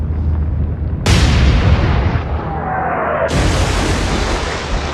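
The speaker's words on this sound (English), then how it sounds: "Now the main guns have started to open up from the rear." Warship main guns firing in the naval game Atlantic Fleet, two loud booming blasts about two seconds apart, each with a rolling rumble and a faint whistling tail between them.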